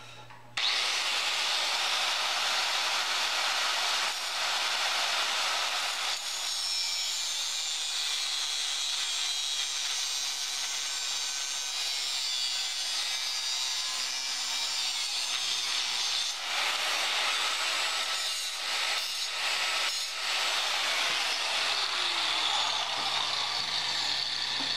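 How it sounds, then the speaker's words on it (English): An angle grinder's cutoff wheel slices through metal on a 2001 Chevy 2500HD pickup for a tow hook modification, a loud, harsh, continuous grinding screech lasting the whole stretch with no talking. "cutoff wheel."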